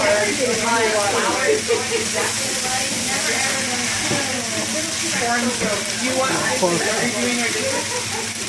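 Pork chop sizzling in a hot pan, a steady broad hiss and crackle running throughout while people talk over it.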